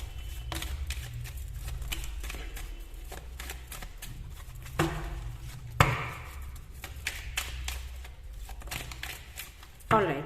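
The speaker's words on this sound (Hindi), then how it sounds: "मैं बस निकाल रही हूं यहां से कुछ कार्ड्स" Tarot cards shuffled and pulled from a deck in a quiet room, with soft riffling and a few sharper slaps of cards, mostly beneath a woman's continuous speech.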